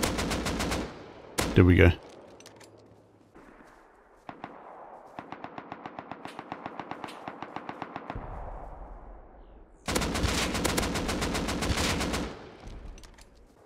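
Rapid automatic gunfire in the Rust survival game during a player-versus-player battle, loud bursts and a long stuttering volley of shots, with someone speaking briefly near the start.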